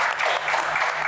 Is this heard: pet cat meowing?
no